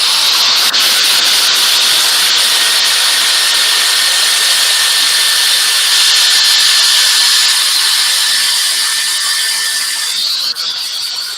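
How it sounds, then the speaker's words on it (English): Steady, continuous abrasive hiss of power sanding, loud and close, running without pause throughout with no talking. "Right, quick bit of sanding."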